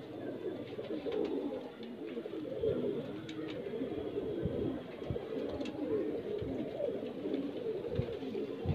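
Low, continuous cooing of several high flyer pigeons close by, overlapping soft throaty calls with occasional faint flutters.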